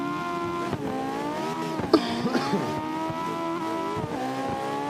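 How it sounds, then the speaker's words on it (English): A Mazda Miata in a drifting video game holds a steady engine note with tire squeal, easing off the throttle and then picking back up, heard alone without talk. "I can hear you like holding back on the throttle."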